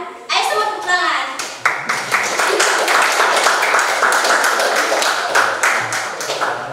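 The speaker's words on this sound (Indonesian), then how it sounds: "Ayo semua tepuk tangan." A classroom of children claps together, a loud, close burst of rapid hand claps that settles into a steady rattling patter, with young voices and a child's sing-song speech over the start.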